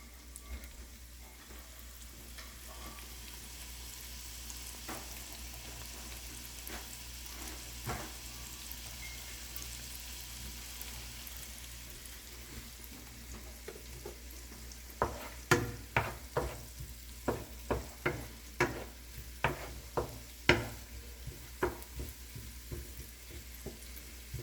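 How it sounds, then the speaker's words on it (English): Ingredients for Jamaican turn cornmeal sweating down in a pan, a soft steady sizzle with a run of louder clacks and stirring taps toward the end. "you could call it sweating down or sizzle down"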